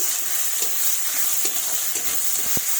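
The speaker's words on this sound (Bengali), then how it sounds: "এগুলো একটু লাল লাল করে ভেজে নেব" Chopped onion frying in oil as it browns toward a reddish colour, a soft continuous sizzle with light scraping from stirring and a sharp tap near the end.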